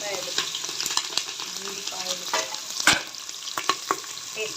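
Mustard seeds, cumin, green chillies and onions fry in hot oil for a rice-and-dal dish, with a steady bright sizzle broken by sharp spoon clicks and scrapes against the pan, close and fairly quiet, with no talking.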